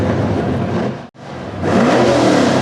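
A 1987 Chevy square body truck with an LS engine revs hard at a small block competition, a loud engine roar that cuts out abruptly for a split second, then returns even louder and sustained.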